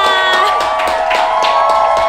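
A crowd in Bandung claps and cheers loudly, with whoops and shouts over quick rhythmic hand claps, close and continuous throughout.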